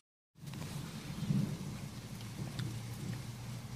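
Deep, rolling thunder rumbles heavily over steady rain noise in a thunderstorm at Chénens, starting abruptly and continuing as a low, sustained growl.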